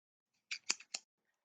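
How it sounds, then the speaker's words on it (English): Scissors handled before cutting a t-shirt for a bag craft give a quick cluster of three or four faint, close metallic clicks and snips in otherwise silence. "I've got my scissors here"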